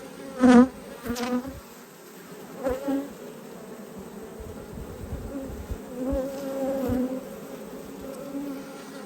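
Honey bees buzz during a hive inspection in Australia, close passes loud and brief against a softer steady hum of many bees, with the occasional light knock of a frame.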